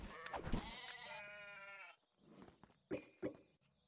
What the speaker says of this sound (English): Luring sheep.